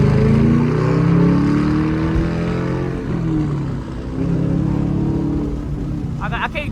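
A Camaro SS engine drones loud and steady from inside the car during a late-night downtown highway drive, wind noise mixed in and someone talking over it.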